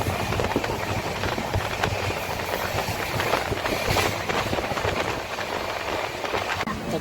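Continuous heavy rumble of the Jan Shatabdi train arriving at a station on the Chiplun–Mumbai route, rattling and clattering at a constant loud level, with no talking.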